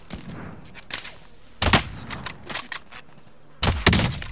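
Call of Duty gunfire rings out in short sharp bursts of rapid shots, with quieter single pops between louder volleys at a steady stop-start rhythm.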